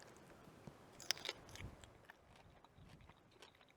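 Someone bites into and chews a spicy sriracha teriyaki beef lettuce cup at a camp cooking setup, giving quiet, close crunches and soft chewing, with a couple of sharper bites near the middle.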